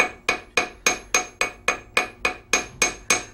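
Forged metal jewelry struck by a hammer in a steady series of about twelve sharp, ringing blows, evenly spaced and close, each strike decaying quickly before the next.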